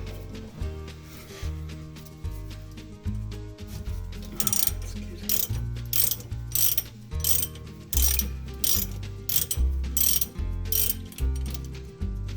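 Hand ratchet backing the nut off a tie rod end on a 1977 C3 Corvette, steady repeated back-and-forth strokes with clicking pawl and sharper bursts on each swing, close and loud with no talking.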